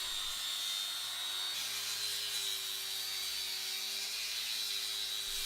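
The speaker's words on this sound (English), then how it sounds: "For logs that resist mechanical treatment, coarse grit discs, P60, are used first to ensure proper material removal." Coarse P60 grit discs sanding hard timber logs for a log cabin, a steady abrasive whine and grinding rub that runs continuously and fairly loud for the whole stretch, with no pauses.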